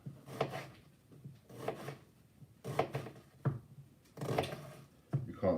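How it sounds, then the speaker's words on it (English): A knife chops through an onion on a cutting board while shepherd's pie is being made, giving a series of rough, scraping bursts in uneven clusters, close and moderately loud. "You can't see how I'm chopping the onion,"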